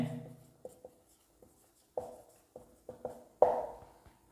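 Writing on a board during a school class: short, scattered strokes and taps come close and fairly quiet, in irregular bursts with pauses between them and no talking.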